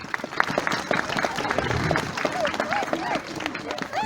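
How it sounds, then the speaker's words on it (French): Audience clapping at a live show, dense steady applause with crowd murmur and a voice speaking over it. "Les derniers applaudissements, je vous prie pas,"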